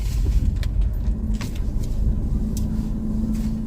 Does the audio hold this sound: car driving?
yes